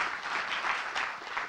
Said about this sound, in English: let's give a round of applause to everybody